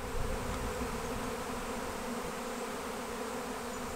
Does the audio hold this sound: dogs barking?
no